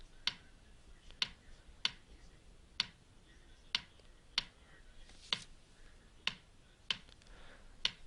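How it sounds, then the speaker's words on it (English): A basic kick pattern plays back in FL Studio 8 as a sparse, evenly spaced run of short, sharp clicky hits, about a dozen over several seconds, quiet and dry with nothing else alongside. "I started off making a basic kick pattern."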